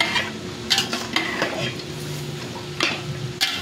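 Pork for Bicol Express stirred in a sizzling pan, a metal spatula scraping and clinking against the pan in irregular strokes over a steady low frying hiss, close up and without speech.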